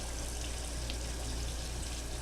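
Tap water runs steadily into a sink over a pork roll being washed, a continuous close splashing rush with no talk.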